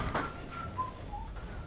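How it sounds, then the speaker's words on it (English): Soft, distant whistling of a few brief wavering notes, faint beneath a low background rumble of the video game Monster Hunter Freedom Unite. "Can you not be whistling?"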